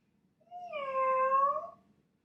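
A voice imitates a cat, drawing out a single long, tonal meow that swells and fades, close and clear against a quiet background.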